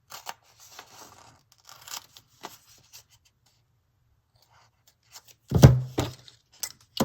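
Large scissors snipping through paper in a quiet room: a run of small, scattered clicks and snips, then one louder close cut near the end, followed by a couple of light taps.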